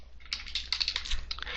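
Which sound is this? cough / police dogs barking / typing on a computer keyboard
typing on a computer keyboard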